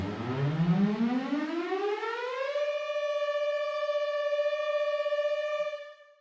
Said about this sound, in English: so it just sounds like a siren because they're very detuned sounding somehow